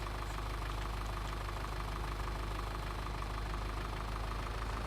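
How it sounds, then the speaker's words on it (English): A tractor engine idles steadily and close up, a continuous low, loud rumble with a rapid knocking pulse running through it for the whole stretch, with no talk over it. "I do like having bunches of different tractors that have got different sounds."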